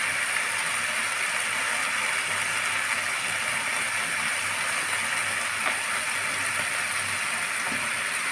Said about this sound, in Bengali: মুগ ডালগুলো দিয়ে আমি ভালোভাবে নেড়ে চেড়ে ভেজে নেব